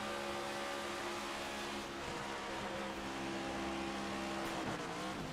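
A Ford stock car in the iRacing sim drones steadily from an onboard view at Daytona, a continuous buzzing engine note held at near-constant pitch, faint and uninterrupted throughout.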